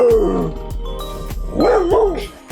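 A small dog in an RV gives whiny yips and short barks, close and fairly loud, with brief gaps between calls.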